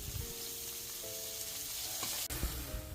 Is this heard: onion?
yes